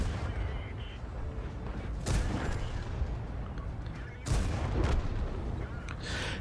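Tank cannon shots in the online tank battle game World of Tanks, an autoloader firing two loud booming blasts a couple of seconds apart over a steady rumbling battlefield background.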